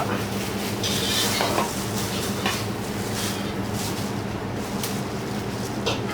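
Oyster mushrooms are stir-roasted in a pan, with a steady close sizzle and frequent scraping and clinking of a utensil against the cookware.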